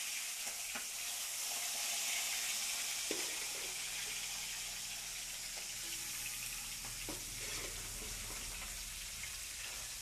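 Fish fries in hot oil with a steady, dense sizzle that runs the whole time, broken by a few sharp pops and spatters of oil; the sound is close and constant, with no voices over it.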